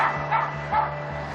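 A small dog shut behind a locked shop door gives a few muffled, yipping barks in quick succession, sounding slightly distant and dulled, over a steady low hum.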